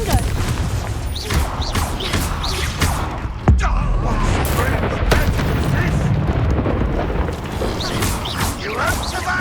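Repeated explosive spell blasts and booming impacts in the Hogwarts Legacy video game, loud and dense, layered over continuous combat noise and crackling effects with a voice casting spells throughout.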